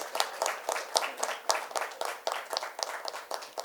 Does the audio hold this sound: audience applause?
yes